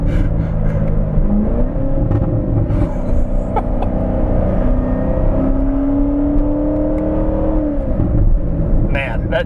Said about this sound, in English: Oh, the sound is amazing. It sounds like a supercar.